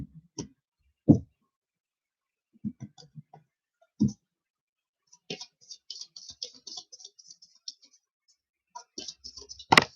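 A deck of tarot cards being shuffled on a table, scattered soft taps and quick riffling clicks in short bursts with quiet gaps between them, close and fairly faint.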